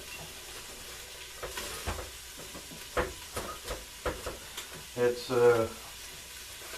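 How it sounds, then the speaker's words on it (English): Cabbage dropped and pushed into a crockpot, a few soft rustling thumps and crinkly scrapes spread over several seconds, close and moderate, with a brief spoken word and faint background noise. "I'll put the cabbage in first."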